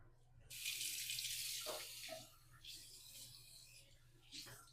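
A bathroom tap runs into a sink for a quick face rinse during a shave, a close, steady hiss of flowing water that starts, pauses and returns in short bursts.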